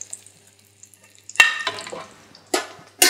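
Hot fat is spooned over a thick fish fillet in a pan, giving a soft steady sizzle broken by a few loud bursts of spattering hiss as the fat is basted over, close and without talk.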